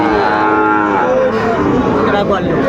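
Young bull calves at a crowded cattle haat in Aftabganj, Dinajpur, let out a drawn-out, loud moo close at hand, carrying on steadily with faint crowd noise behind.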